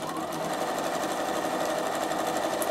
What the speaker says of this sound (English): I do the same stitching just for a bit of fun